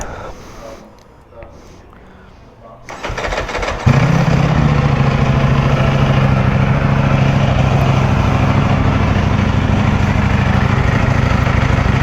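A Ducati Panigale V4R motorcycle engine fires up after a few quiet seconds of faint background, then holds a loud, steady, close-up rumble until the end.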